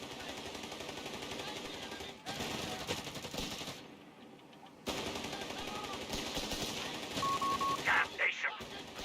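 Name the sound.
gunfire at a command post in Company of Heroes 3, video game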